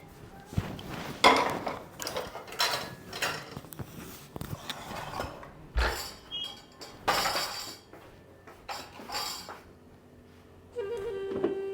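Dishes and utensils clink and clatter irregularly as they are scrubbed and moved, with sharp metallic knocks and bursts of running water.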